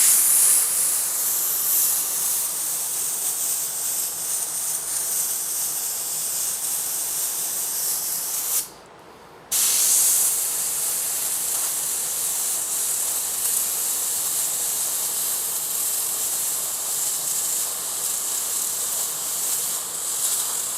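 Compressed air blows dust out of a laser-engraved item in a long, steady, close hiss that stops briefly partway through and then resumes.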